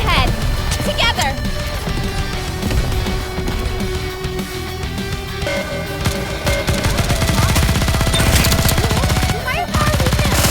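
Sustained gunfire from the NIKKE video game, with dense rapid machine-gun bursts over game music and effects while voices speak over the shooting.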